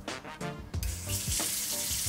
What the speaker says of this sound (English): which will keep the water tap running until it detects motion again